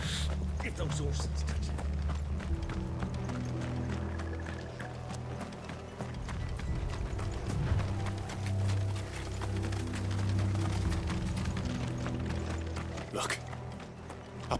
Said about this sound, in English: Get those horses.